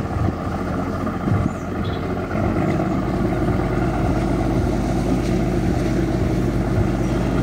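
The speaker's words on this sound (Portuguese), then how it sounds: "quem está saindo daqui de Manicoré é a Dama de Ferro do Rio Madeira, navio motor Marlene Coimbra" The motor ship Marlene Coimbra departs Manicoré on the Madeira River: a deep, steady engine rumble with wind buffeting the microphone, growing fuller after a couple of seconds and holding constant, no talking.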